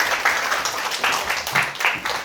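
An audience at a tarot master's book concert claps in moderate, slightly uneven bursts, close and fairly loud, with no voices over it.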